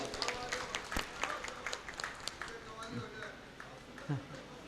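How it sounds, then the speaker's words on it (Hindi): An audience at a devotional satsang gathering in Hyderabad claps along in dense, fairly rhythmic bursts, the clapping continuing steadily beneath a speaking voice. "ताली बजाएंगे आप लोग"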